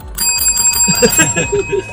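A bright bell rung as a subscribe-notification sound effect, a quick run of repeated metallic dings over about two seconds, loud and alone.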